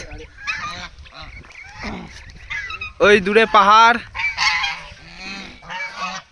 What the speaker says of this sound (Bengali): সিটি সেন্টারের রাজহাঁস।